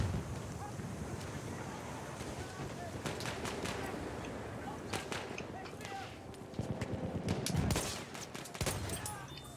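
Gunshots in the multiplayer video game Battlefield 1, a quiet scattered volley of sharp cracks, sometimes in quick pairs, over a steady windy, rumbling background, with a player's voice talking near the end.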